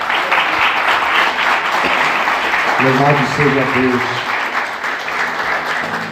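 Church congregation clapping steadily through a Sunday morning service in a Portuguese-speaking church, dense applause throughout, while a voice speaks briefly over it near the middle.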